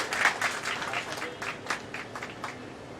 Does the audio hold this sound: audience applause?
yes